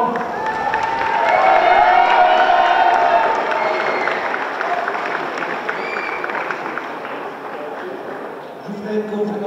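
Applause and cheering from an audience at the Miss Houblon 2013 pageant, a broad sustained wash of clapping that swells early, then carries on steadily beneath voices.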